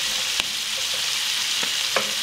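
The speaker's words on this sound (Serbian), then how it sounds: "pileća džigerica se i dalje prži" Chicken liver fries in a pan with a steady, loud hiss and sizzle filling the whole stretch, broken by a few faint clicks and knocks, with no talking.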